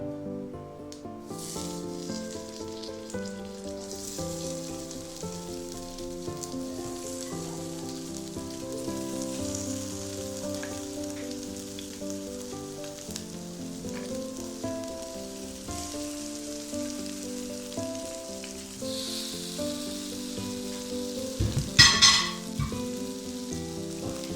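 Chicken pieces dropped one by one into oil in a hot pan for Arabian chicken mandi, hissing and sizzling steadily for a long stretch, with a brief sharper crackle near the end and no talking.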